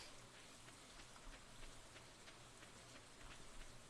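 Steady rain ambience from the Stardew Valley video game, a soft continuous patter of drops on surfaces, faint and even throughout with no voices.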